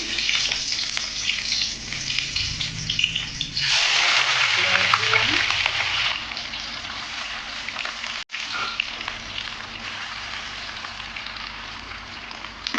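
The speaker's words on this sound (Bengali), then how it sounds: "সর্ষের তেল দিয়ে দেবো কাঁচা লঙ্কা দিলাম" Green chillies frying in hot mustard oil give a steady, dense sizzle. It swells louder for a couple of seconds early on, then settles back to a constant crackling hiss.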